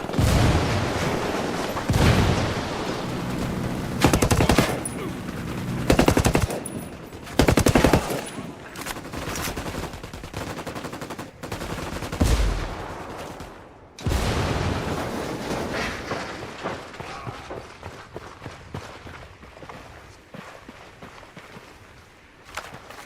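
Intense firefight in the video game Ghost Recon Wildlands, loud bursts of automatic gunfire and single shots in rapid clusters, with booming impacts and brief lulls, fading to scattered shots toward the end.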